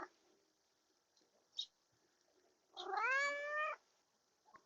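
Fernando the cat lets out one loud, drawn-out meow, close by and standing alone after a few faint soft sounds.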